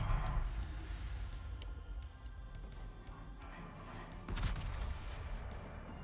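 Jean Bart battleship broadside gunfire in World of Warships fires at fairly close range, heavy booming salvos over a constant low rumble, with a second loud burst partway through.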